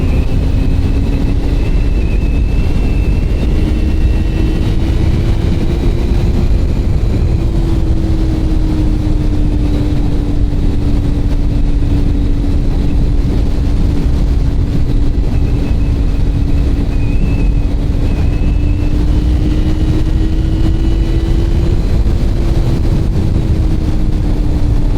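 A Yamaha FZ6 600cc inline-four motorcycle holds a steady, moderately loud engine drone on mountain roads, its pitch rising and falling gently under constant wind rush.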